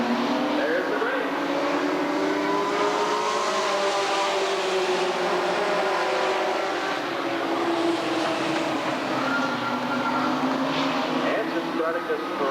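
Sportsman race cars roar around the dirt oval at Redwood Acres Raceway in 1991, a loud, continuous blur of engines rising and falling as the pack passes, with a crowd-like wash underneath.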